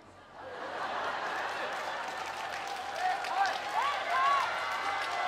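A festival crowd claps for a singer after an encore at the opening celebration concert of the 18th Sunchang Jang (fermented sauce) Festival in Korea. The applause is a steady, moderate, fairly thin patter of hands lasting throughout.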